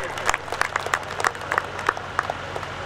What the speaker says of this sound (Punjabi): ਜ਼ੋਰਦਾਰ ਤਾੜੀ ਮਾਰ ਕੇ ਆਪਾਂ ਇਹਨਾਂ ਦਾ ਸਵਾਗਤ ਕਰੀਏ।